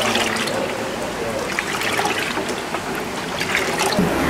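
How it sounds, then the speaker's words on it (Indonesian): Water sloshing and trickling as rotifer culture solution is stirred in a bucket with a plastic water scoop, a steady, continuous splashy swirl with no talking. "Kemudian aduk dengan menggunakan gayung sampai dengan tercampur rata."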